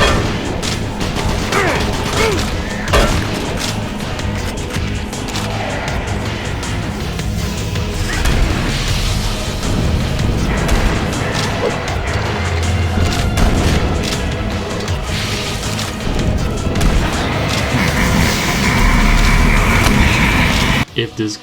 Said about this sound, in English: The Doom 3 Super Shotgun is an absolute beast.